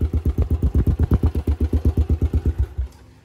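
A Yamaha LC135 motorcycle with a Zoh Racing exhaust gives a loud, close, rapid putter. Evenly spaced pulses run steadily for almost three seconds, then cut off abruptly.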